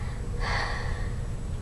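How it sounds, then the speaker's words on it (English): A single deep inhalation drawn through an asthma inhaler, a close, breathy rush lasting about half a second over a low steady room hum. "Let's take a deep breath for me."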